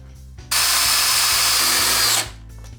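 A power drill drives a hex screw into wooden table legs in one loud, steady burst lasting under two seconds, then winds down and stops.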